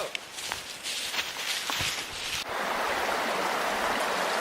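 Creek water flowing steadily along a Pennsylvania wilderness trail, a broad close rush with a few footstep crunches and rustles over it early on.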